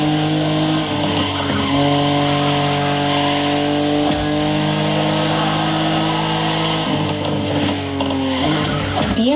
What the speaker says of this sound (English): BMW Z models are what we call roadsters. Yep. Two-seaters made for relaxing behind the wheel, appreciating the scenery and the thrill of speed.